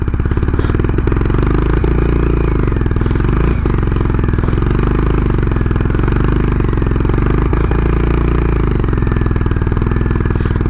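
Honda CB350 Highness motorcycle engine labouring on a curvy Spiti Valley mountain road, a loud close continuous thumping drone with steady firing pulses, slight rises in revs and occasional clattering knocks, no talking.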